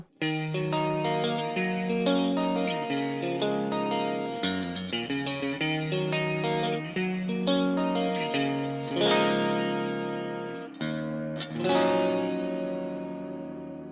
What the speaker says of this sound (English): let's add the magic chorus, which gives also us a stereo image